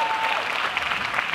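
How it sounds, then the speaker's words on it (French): Steady crowd applause in a French film-session gathering, a continuous even wash of clapping throughout, without speech. "Je vous demande de l'applaudir"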